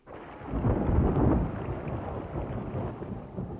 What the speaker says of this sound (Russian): Видно, гроза на всю ночь.